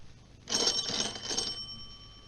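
A doorbell rings once at a house late at night in a radio drama, a bright, moderately quiet chiming tone lasting about a second before fading into near silence.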